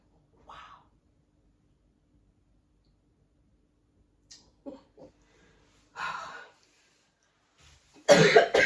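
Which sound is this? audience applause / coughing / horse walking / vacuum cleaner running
coughing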